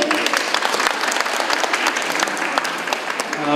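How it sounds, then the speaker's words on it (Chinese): Applause from an audience at a Mother's Day choir charity event in a hospital hall, welcoming a speaker: dense, steady clapping from many hands at close range, sustained throughout without a break. "掌声欢迎"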